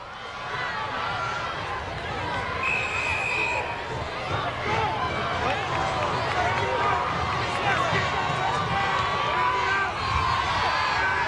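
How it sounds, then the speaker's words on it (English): Football fans in the stands at a high school game between the Hampton Crabbers and the Phoebus Phantoms make a continuous loud rumble of stomping and crowd noise with cheers and shouts, and a voice talks over it throughout. "Fans are going crazy. You can hear them stomping on the stands out in front of us"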